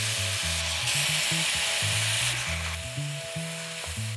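Chicken and vegetables sizzle steadily in a hot pan, a continuous frying hiss with intermittent low scraping knocks from stirring, close and fairly loud throughout.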